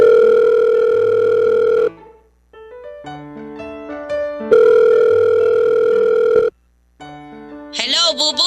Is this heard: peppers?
no